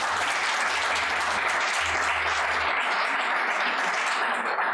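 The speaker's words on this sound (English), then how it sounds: "Let's give them a round of applause." A hall audience applauds at a high school poetry recitation championship, a continuous even roar of many clapping hands, with a faint low hum briefly underneath.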